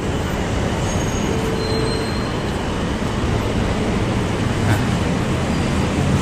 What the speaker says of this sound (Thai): ข้างบนก็เป็นรถไฟฟ้านะครับ ที่วิ่งไป